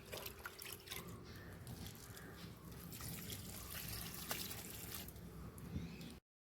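Liquid fertilizer is poured at the base of eggplant plants outdoors, a steady soft trickle and splash lasting about six seconds, fairly quiet and close, with no voices.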